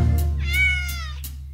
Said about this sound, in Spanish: Cuando regresó, alimentaba a su gato.